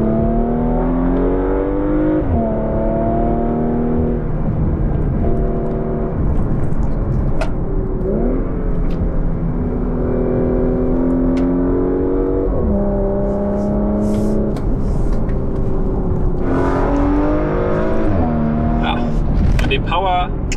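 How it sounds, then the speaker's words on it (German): A Porsche Macan GTS with a V6 engine and PDK gearbox pulls hard in repeated accelerations, its engine note rising and dropping through gear changes, with someone talking over it throughout. "V6 klingt wunderbar, richtig schön."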